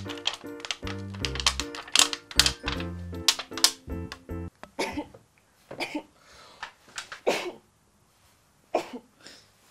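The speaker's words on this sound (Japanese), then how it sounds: "音の刺激でちょっとくしゃみが出ちゃった。" A person sneezes during a home craft session building a steam-powered pop-pop boat. Several short, forceful bursts come close up after a run of tonal sounds, then fade into quiet handling noises.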